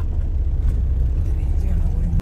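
Heavy traffic on a mountain ghat road toward Mahabaleshwar gives a steady, close low engine rumble with a faint hiss above it and no clear single vehicle passing.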